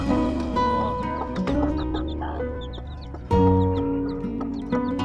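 Mother hens with week-old crossbred chicks in a coop give repeated soft clucks and calls, with a sharper burst of clucking midway, close and continuous over light rustling.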